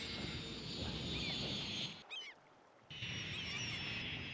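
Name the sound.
plane coming in to land in Cities Skylines video game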